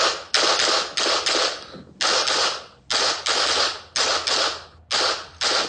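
Gunshots on a practical shooting match stage: close, sharp shots fired in quick pairs and short strings, separated by brief gaps, repeating steadily throughout.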